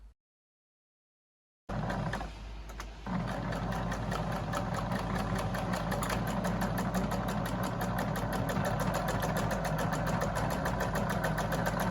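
A sewing machine stitching the corners of a tote bag starts after a brief silence, settling into a steady, fast mechanical whir with a rapid needle rhythm that runs unbroken and close.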